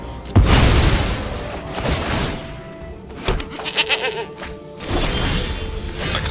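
Goat bleat from the Magic: The Gathering Arena video game, a short synthesized bleating cry in the middle of a busy game soundscape with booming effects before and after, heard alone without talk.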